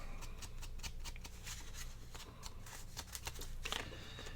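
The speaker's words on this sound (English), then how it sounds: "Snip that little piece off." A pair of scissors makes a quick run of close, crisp snips while trimming a small piece of paper for a journaling pocket, heard over a low steady hum without talk.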